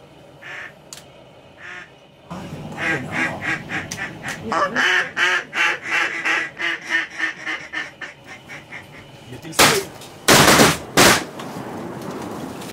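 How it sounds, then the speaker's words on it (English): Several loud shotgun blasts ring out near the end of a duck hunt on a bright, cold day, closely spaced after a stretch of mallard quacking and duck calls. "We just shot 2 mallards. They came in real close."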